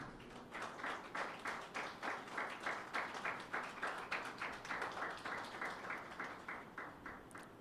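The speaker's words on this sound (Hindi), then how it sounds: "यीशु मसीह के लिए तालियां बजाएं।" A church congregation at a Pentecost Sunday service claps in a quick, fairly even rhythm for several seconds, faint and somewhat distant, with no voices over it.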